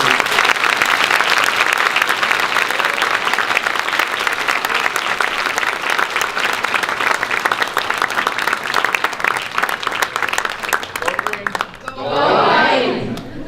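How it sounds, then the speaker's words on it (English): Loud, sustained applause from a large university lecture audience, dense clapping that fades out near the end, followed by a brief burst of voices. "Let's give him a round of applause."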